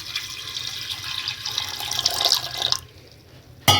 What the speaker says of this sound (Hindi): पानी डाल रही हूँ मैं इसमें